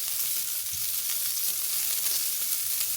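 Butter sizzles and crackles steadily in a hot non-stick pancake pan, a continuous close hiss without pauses.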